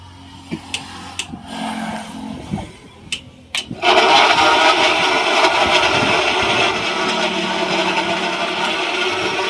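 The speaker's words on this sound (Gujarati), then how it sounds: "હવે મિક્સર મશીન પર ચાલુ કરે છે" An electric mixer machine whirs into action making fruit pulp (ras) at a juice shop in Godhra: a few knocks and clatters first, then a loud, steady motor roar that starts abruptly and holds to the end.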